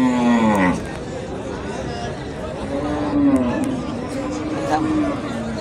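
Cattle low at a busy rural cow market in Badarganj, Rangpur, with a loud moo at the start and further drawn-out moos later, amid steady crowd chatter and nearby talking.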